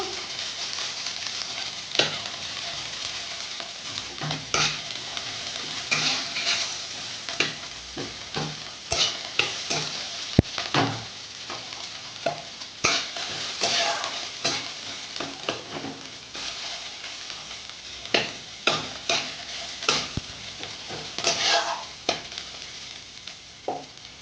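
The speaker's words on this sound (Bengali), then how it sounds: "কাঁচা লঙ্কা চেরা দিলাম, লাল করে ভেজে নেবো 2-3 মিনিটের মতো" Slit green chillies fry in hot oil for a prawn and banana flower ghonto, a continuous crackling sizzle punctuated by repeated spatula scrapes and taps in an irregular rhythm, close and clear.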